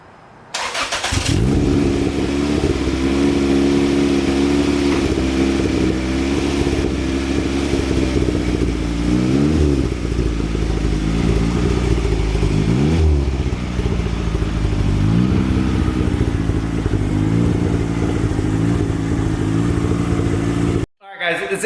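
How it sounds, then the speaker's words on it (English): A turbocharged Toyota MR2 Spyder engine runs loud and close after a tune-up with new spark plugs, revving and shifting pitch as it drives, with a throaty rumble that rises and falls before cutting off abruptly. "let's go ahead and rip the car around to see if it has a difference"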